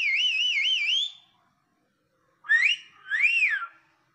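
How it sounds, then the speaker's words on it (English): Human whistling: a wavering warbled tone for about a second, a pause, then two shorter rising-and-falling whistled notes, clear and close with no other sound. "Tiffany can whistle."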